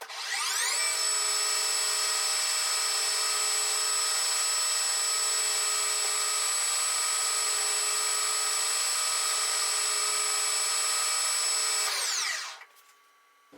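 A metal lathe takes a cut with a hand-sharpened brazed carbide tool. A steady, loud, high-pitched whine rises at the start, holds evenly for about eleven seconds, then winds down, with no talk.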